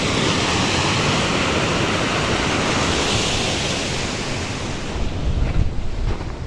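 Waterfall near a bridge, a loud, continuous broadband rush of falling water, steady and close, with some wind buffeting the microphone near the end.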